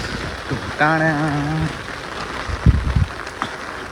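Steady patter of rain on a surface, continuous throughout, with a short tonal whistle-like sound and a few thumps partway through.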